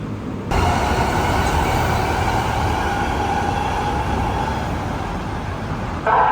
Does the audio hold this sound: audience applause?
no